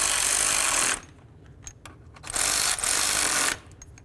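A power ratchet or impact tool tightens bolts during a radiator cooling fan install on a 1998-2002 Honda Accord, giving two loud whirring bursts split by a pause with small clicks and handling sounds.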